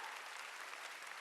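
A church congregation clapping hands during a Sunday afternoon service, a brief dense burst of many people applauding together, steady and fairly loud with no speech over it.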